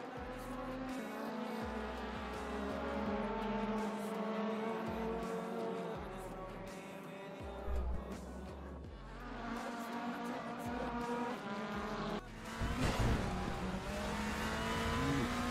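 Audi race cars battling in the Raceroom sim racing game, engines revving and shifting up and down as cars jostle for position during an overtake, with a brief tire squeal and a car rushing past near the end.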